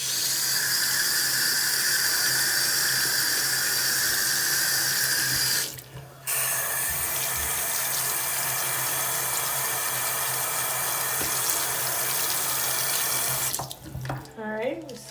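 A bathroom or kitchen tap runs steadily as makeup brushes are rinsed under it with a little soap, a constant close hiss that briefly cuts out around the middle, then ends with a squeaky squeeze of the wet bristles.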